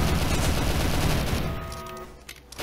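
A dense burst of rapid gunfire from the online game SCP Roleplay. It is loud and continuous for about a second and a half, then tails off into quieter scattered sounds, with no talking.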